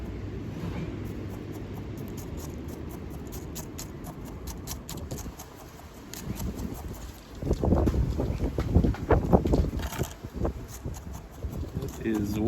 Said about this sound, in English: It is way too windy to be doing any bonsai work